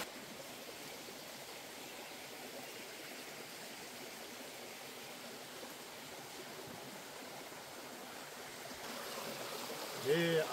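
A small forest stream runs steadily over stones, a faint even rushing and trickling wash heard from nearby, with a brief louder rustle right at the end.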